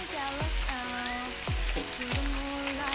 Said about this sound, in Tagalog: Kung nagisa nyo na po ng mabuti, ayan, wala na siyang dumidikit na siya sa kawali.